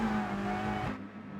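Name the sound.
Scirocco race car engine in the video game Gran Turismo Sport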